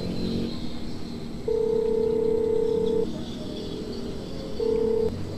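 A telephone ringback tone sounds during a call: two long tones, roughly 1.5 seconds each, separated by a pause and repeating in a steady cadence over a faint, noisy background, with no voices.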